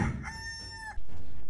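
A rooster crows once in a long, drawn-out cock-a-doodle-doo, clear and fairly close, followed by a sudden loud burst of a different sound at the end.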